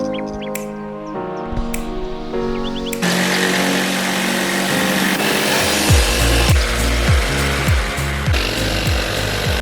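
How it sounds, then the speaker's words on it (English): Power saw cutting through plywood sheets during a floor build, a steady loud buzzing cut with repeated rhythmic strokes toward the end, no talking. "so we've cut out all the plywood"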